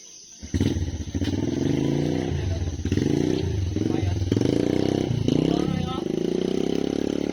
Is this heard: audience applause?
no